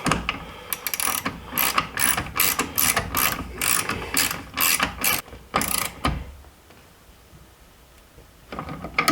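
A ratchet wrench on a socket extender tightens hardware while a TruXedo Pro X15 tonneau cover is fitted to a 2021 Jeep Gladiator Rubicon bed, giving rapid bursts of close, loud metallic clicking, then a quiet pause and a few more clicks.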